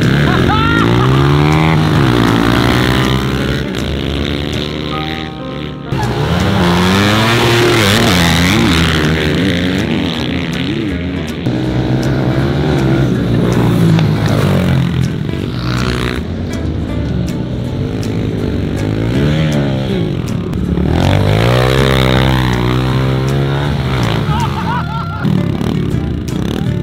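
Several 110cc dirt bikes ride on a backyard track, their engines revving and whining up and down close by, loud and continuous, with voices faintly underneath.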